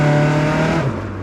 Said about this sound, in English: Just gonna squeeze the throttle and kick the clutch and see what happens.